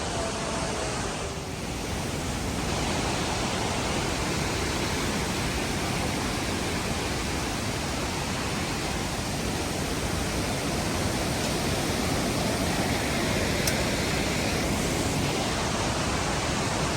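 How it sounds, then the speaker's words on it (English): A waterfall roars continuously along the Annapurna Base Camp trek in Nepal, a dense, steady rushing wash of water that stays loud and unbroken throughout with no voices. "you know the waterfall going down"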